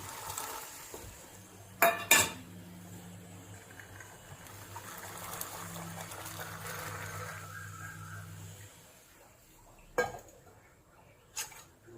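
Metal clanks against a pot, followed by a low bubbling rumble as green peas are added to boiling water, then more sharp clinks of utensils; close and fairly quiet.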